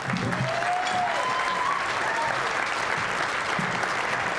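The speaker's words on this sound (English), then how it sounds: "can we give her a big round of applause for Zenobia Webster?" A roomful of people gives a warm round of applause for Zenobia Webster at a Boys & Girls Clubs special presentation, steady and full throughout, with a few faint whistles or cheers riding over the clapping.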